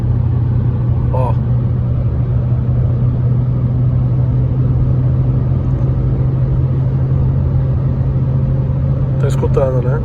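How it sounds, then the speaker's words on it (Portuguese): A 2022 Fiat Cronos 1.3 cruises at 120 km/h on a highway, heard from inside the cabin as a steady loud engine drone and road rumble, with brief faint sounds over it. "Vamos ver se vocês escutam o motor dando uma gritadinha aqui dentro, ó."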